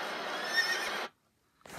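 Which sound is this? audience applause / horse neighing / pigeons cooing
horse neighing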